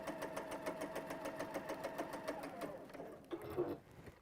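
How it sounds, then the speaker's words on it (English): Electric sewing machine stitching fabric around curves, a fast steady mechanical whir with regular needle ticks that slows and stops, then a short burst of stitching resumes near the end. "I have my machine set so that every time I stop, my foot is down, my needle is down, my foot comes up"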